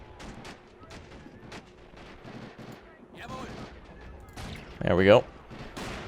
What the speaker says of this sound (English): machine gun fire from one direction and mortar rounds from the other